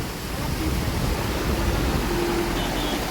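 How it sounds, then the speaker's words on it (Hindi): A waterfall near Mana Village roars as a steady broadband rush of falling water, loud and close, with no pause throughout. "वाटरफॉल है दोस्तों, जो ये यहाँ से निकल रहा है पानी,"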